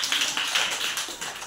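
Schoolchildren in a classroom applauding a classmate, a brief burst of quick overlapping claps, fairly close and steady, with no talk.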